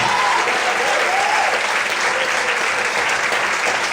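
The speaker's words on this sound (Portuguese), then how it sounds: "Será que você pode aplaudir e exaltar o Senhor essa noite?" A congregation at an evening church service bursts into loud, continuous applause in praise of the Lord, a full, steady roar of clapping with faint voices mixed in.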